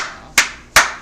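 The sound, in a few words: clapping, applause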